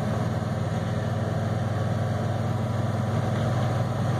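A 1989 Ford F350 with a 7.3L IDI diesel cruising in fifth gear, a steady low droning engine rumble inside the cab, constant and unbroken with no talk.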